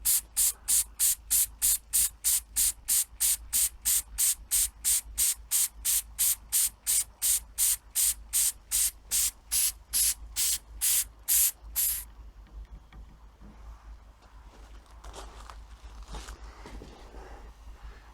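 Antique model steam engine, fired with fire lighters, hissing in a rapid, regular series of loud sharp puffs for about twelve seconds, then cutting out to a faint low rumble with scattered soft noises.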